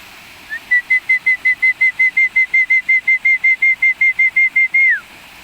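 A person whistles in a park to call ducklings: a long steady run of about twenty short, evenly spaced high whistle pulses, close and clear, with a final longer note sliding downward.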